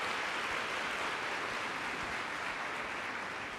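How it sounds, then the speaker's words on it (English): Audience at a science week launch event gives a choir a sustained round of applause, dense even clapping at a moderate distance with no voices. "You can still give them a warm round of applause to encourage them."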